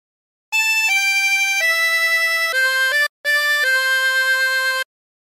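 A harmonica plays a phrase of There's a River of Life Flowing Out of Me in sustained, reedy held notes that step between pitches, with one brief breath gap near the end.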